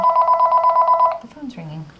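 A telephone rings indoors with a loud, close, rapid electronic trill lasting about a second before cutting off, after which a voice briefly speaks.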